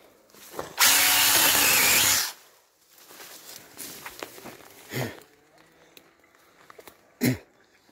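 A cordless battery-powered saw whines loudly for about a second and a half, then stops, followed by quieter handling clatter and a few knocks.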